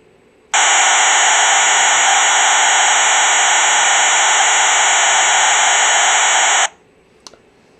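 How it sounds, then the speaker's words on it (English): Modulated encrypted digital voice radio signal: a steady, loud, dense buzzing tone that starts abruptly, holds unchanged for about six seconds, then stops, followed by a faint click. "The modulated signal sounds like this."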